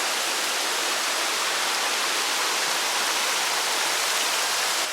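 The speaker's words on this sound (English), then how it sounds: "oh yeah, the water is gushing." A rushing mountain stream gushes after rain in the Great Smoky Mountains. The water roars as a dense, steady hiss, loud and close, with no other sounds.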